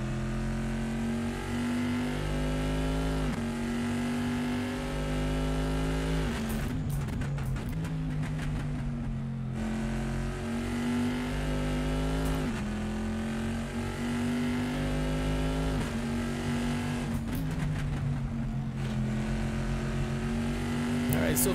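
Race cars including a red Ferrari and a yellow Corvette in a GT2 sim race at Laguna Seca, engines droning loud and continuous with repeated rising revs and gear-change dips as the pack runs close together, a voice talking over the top.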